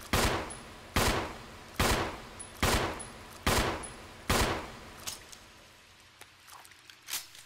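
Gunshots ring out in the Resident Evil video game, six loud, sharp blasts spaced about a second apart, followed by quieter clicks and faint knocks.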